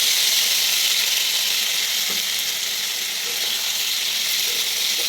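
A spice paste of ginger, tomato and poppy seed hits frying potatoes, pointed gourd and soybean chunks, producing a loud, even, continuous hissing sizzle close by with no talk.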